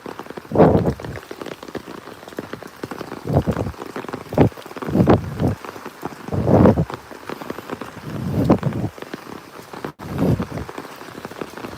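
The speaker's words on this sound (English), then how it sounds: "It's actually quite pleasant walking in the rain" Rain falling outdoors during a walk, a continuous patter on surfaces with gusty wind buffeting the microphone in loud rising and falling bursts, close and rough, with no talking.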